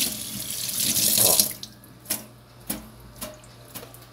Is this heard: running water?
yes